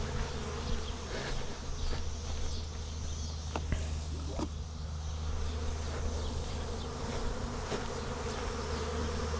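A steady, droning buzz of a wild bee swarm fills the air close by at a barn, with faint scattered clicks and rustles beneath it.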